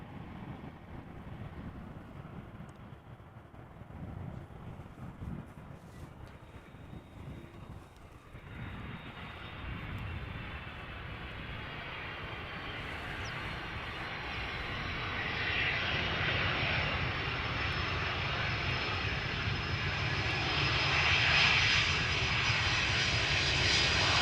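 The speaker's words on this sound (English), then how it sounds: "is that a Dreamliner from TUI? Taking off." A TUI Boeing Dreamliner takes off at Amsterdam Schiphol Airport, its jet engine roar building steadily into a loud, broad rumble with wind buffeting over the microphone.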